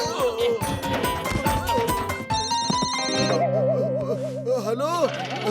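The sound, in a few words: telephone ringing in a Motu Patlu cartoon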